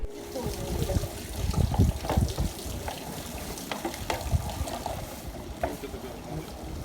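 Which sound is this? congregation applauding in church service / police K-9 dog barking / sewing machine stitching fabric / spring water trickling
spring water trickling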